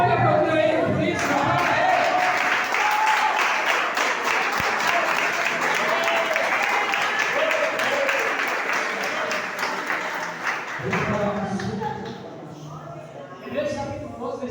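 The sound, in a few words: church congregation applauding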